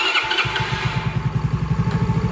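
A Honda CT70 clone motorcycle with an upgraded throttle system starts up and settles into a loud, close, rapidly pulsing engine chug, with no talk over it.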